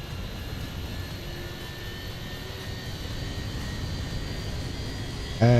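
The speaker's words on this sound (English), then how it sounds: "let's start engine number 2" An IAE engine on a Fenix A321 in the MSFS2020 flight simulator begins its start sequence, a steady cabin-level engine hum and whine building slowly, with a short tonal alert near the end.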